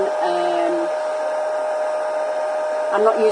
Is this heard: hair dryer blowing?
yes